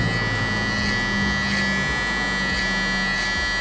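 An electric hair trimmer cuts a low mid taper, buzzing loud and close with a steady motor hum and slight dips in tone as the blade passes through hair.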